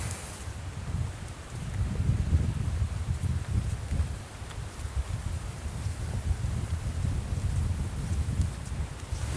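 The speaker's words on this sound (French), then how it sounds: "C'est un vent d'automne, donc plutôt doux, mais qui est parfois turbulent." Mild but gusty autumn wind buffets the open air on a countryside hike, a continuous low rushing roar with surges and dips, rustling close against the microphone and heard alone without voices.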